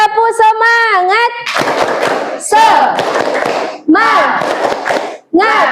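A school class claps a rhythmic spirit cheer, loud bursts of clapping from many children alternating with a teacher's sung, tonal calls.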